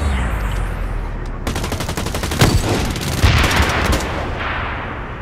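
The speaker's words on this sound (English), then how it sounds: "I eventually got shot by a shotgun." Loud gunfire in the Blacklight Retribution shooter, with rapid automatic fire that starts abruptly after a short lull and a couple of heavier booming shotgun-like blasts punching through the sustained rattle.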